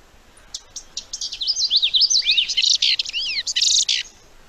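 A small songbird delivers a rapid, varied display song of chirps, trills and sweeping whistles, building in intensity for about three seconds before stopping, heard fairly close.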